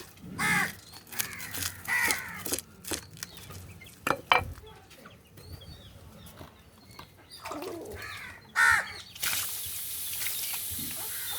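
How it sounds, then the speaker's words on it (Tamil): Several crows caw repeatedly in scattered bursts, some close and loud, others farther off, with rustling and other bird calls between them. "காக்காயெல்லாம் வந்துட்டாங்க"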